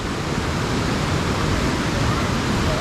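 Steady roar of Picnic Falls on the Snowy River at Mt Buffalo, Victoria: loud, continuous rushing water heard up close, even and unbroken from start to finish, with no clear voices.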